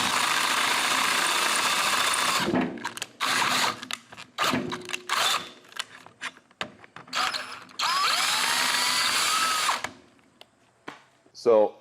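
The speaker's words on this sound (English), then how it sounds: "when drilling the hole into the lower control arm" A power drill bores a hole into a Ford Mustang lower control arm during a Factory Five MK4 suspension build, grinding in several loud bursts separated by pauses. Brief speech is heard in between.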